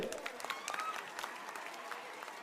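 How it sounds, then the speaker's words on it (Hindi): Audience applause welcoming poets at a mushaira, a dense, fairly distant patter of clapping that holds steady throughout, quiet overall with faint voices mixed in. "जोरदार तालियों से"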